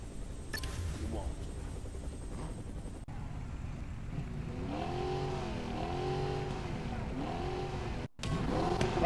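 A Ford Bronco's American V8 in the off-road racing game Gravel revs hard and holds a steady roar, rising and falling through gear shifts, loud and close alongside faint background talk.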